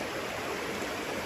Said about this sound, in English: We thought that's the first waterfall, Ganti.